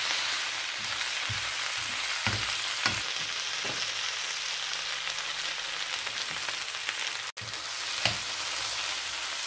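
Onion, garlic, ají amarillo and spinach sizzle and wilt in a frying pan, giving a steady close hiss with soft stirring clicks and one sharp knock near the end.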